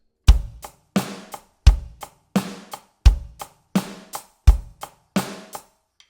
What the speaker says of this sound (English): now I'm gonna do the hi-hats and the kick